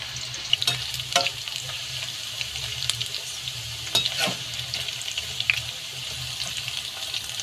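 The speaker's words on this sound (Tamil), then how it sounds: "நல்லா ஃப்ரை ஆகட்டும்." Chicken pakoda pieces deep frying in hot oil, with a steady broadband crackle and bubbling throughout and a few sharper pops and clicks breaking through, close and moderately loud with no talking.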